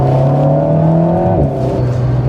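Alpine A110 S sports car engine, 292 hp, accelerating hard with a loud, steady rising drone and a gear change shift midway, close by and alone.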